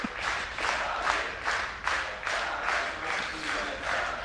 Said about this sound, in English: The clap, the frenzy builds faster and faster as Navi approach their doom.